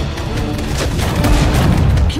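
World War II battle gunfire and explosions from the strategy game Sudden Strike 4, a rapid string of loud booms and shots over a rumbling battlefield, with a voice shouting orders.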